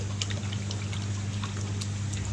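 pH buffer is poured into aquarium water in a freshwater tank setup, a soft continuous trickle with scattered small splashes, steady and close over a constant low pump hum.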